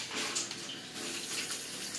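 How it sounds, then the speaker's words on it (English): Hands are washed under running tap water, giving a steady, soft splashing hiss of flowing water close by, with no voices. "I should probably wash my hands."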